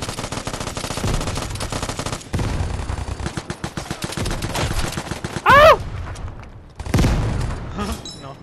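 Video game gunfire in an online shooter, rapid automatic bursts and heavy shots crowding most of the stretch, loud and close, with a short swooping whine near the end and talk mixed in.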